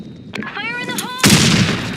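A grenade goes off in a military shooter game, one loud broad blast erupting after a short lead-in of voiced callouts and lingering as a rumbling decay.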